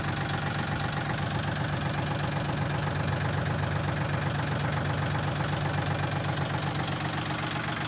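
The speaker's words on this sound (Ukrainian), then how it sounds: "Такий чудовий тракторець." A Yanmar US301 small tractor's diesel engine idles steadily with a dense, even chugging rumble, close and constant throughout, with no voices.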